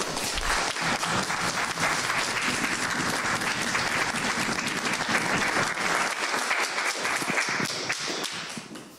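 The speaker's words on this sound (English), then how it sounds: "Let's give her one more round of applause." An audience at a spring lecture in the Walter Soboleff Building gives a speaker a sustained round of applause. The clapping is loud and dense, holds steady for about nine seconds, and thins slightly near the end.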